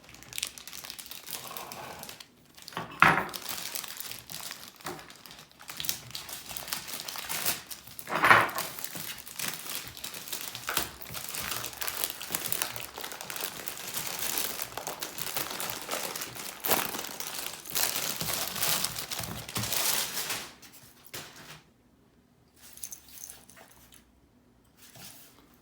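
Packaging around a Lenovo 14-inch black notebook laptop is unwrapped, with close, continuous crinkling and rustling of plastic for about twenty seconds, a couple of sharper crackles, then quieter handling at the end.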